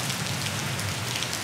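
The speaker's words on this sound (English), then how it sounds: "I was about to say it's not that bad, but it's raining pretty good." Steady heavy rain pours down during a storm at Disney's Boardwalk Resort, a dense, even hiss of drops striking surfaces all around, loud and continuous with no voices.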